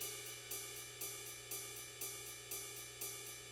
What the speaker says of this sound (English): these ride cymbals here, so they sound like this.